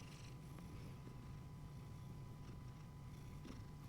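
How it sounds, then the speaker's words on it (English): Cat purring softly in a quiet room, a faint low continuous rumble with gentle rhythmic pulses, close to the microphone and heard alone. "hopefully you guys can at least hear her purring"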